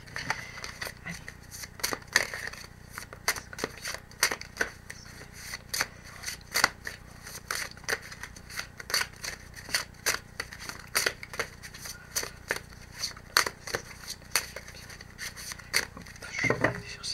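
Tarot cards being shuffled and drawn, giving a close, quiet run of irregular crisp card snaps and papery scrapes over a faint background.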